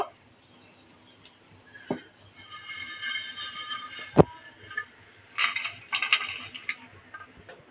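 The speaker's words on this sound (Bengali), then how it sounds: "মশলাটা ভাজা হয়ে গেছে, ঢেলে নেব।" Fried whole spices, including cardamom, white peppercorns and nutmeg, tipped from a pan in a few bursts of rattling, clinking and scraping against metal, with sharp clacks around the middle and a scattered patter near the end.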